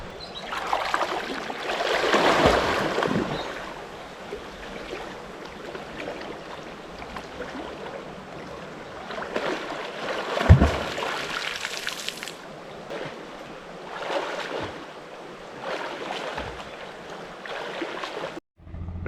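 A kayak paddled against the current on a river near Almonacid de Zorita, Guadalajara, with soft water splashes and trickling around the hull, a few louder paddle strokes standing out, and no talk.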